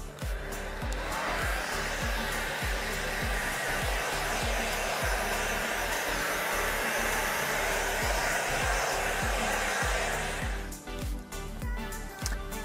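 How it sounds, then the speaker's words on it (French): A hair dryer on its cold setting blows air over hair at a salon finishing a bronze glossing service, a steady loud roar with low pulsing, running continuously before cutting out near the end. "on va passer le sèche-cheveux à l'air froid pour bien tout aérer"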